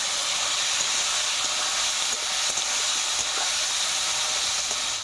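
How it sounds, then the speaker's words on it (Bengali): Small tengra fish fry in hot oil in a wok, a steady, loud, dense sizzle and crackle that holds evenly for the whole stretch with no talking. "মাছগুলো ভেজে নেব।"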